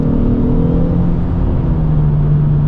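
A Ford EcoBoost engine pulls under throttle from around 60, a loud, steady whirring drone with the pitch rising slightly as the car accelerates.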